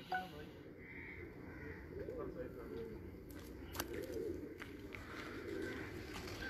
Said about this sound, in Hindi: ये कबूतर हॉट फेवरेट